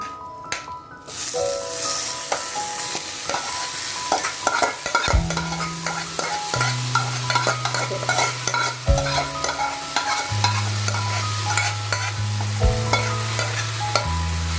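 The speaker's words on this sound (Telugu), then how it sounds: "ఇప్పుడు దీన్ని మనం క్యాప్సికమ్ కూరలోకి ట్రాన్స్ఫర్ చేసేసుకుందాం" A spoon stirs capsicum coconut curry, Andhra style, in a frying pan with fried tempering, coconut and curry leaves. Close, steady scraping and sizzling runs throughout, with sustained musical tones playing underneath.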